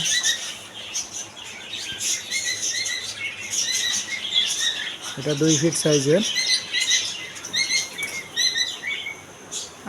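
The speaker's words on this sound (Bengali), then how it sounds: "আরও এদিকে পেয়ে যাবেন পাখির নতুন কালেকশনগুলো ককাটির পাখি জাবা পাখি প্রিন্স পাখি লাভবার্ড পাখি অস্ট্রেলিয়ান ঘুঘু" Pet cockatiels, lovebirds and doves in a bird and aquarium shop, with steady high chirps and tweets, a brief flutter of wings midway, and someone talking over the birdsong.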